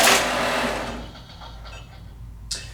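A short whirring mechanical rush as a banknote counter feeds a note through and rejects it as suspect, fading into a low hum, then a brief soft click near the end.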